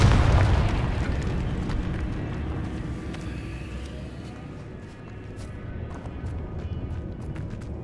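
A Confringo spell explosion in the Hogwarts Legacy video game, one loud boom at the start fading into a long rumbling, crackling tail with scattered small pops, heard alone without talk.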